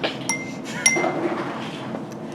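Glass clinks from a 150 millilitre laboratory beaker being handled as material is transferred into it, two or three light, bright taps over a low room hum, close and fairly quiet, with no talking.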